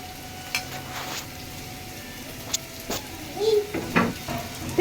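Chopped onion and garlic frying in a pan give a soft, steady sizzle, broken by a few scrapes and clinks of stirring with a utensil; a voice is heard faintly at times.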